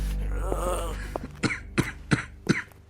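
A consumptive person coughing, one faint hacking sound first, then four sharp, evenly spaced coughs close by.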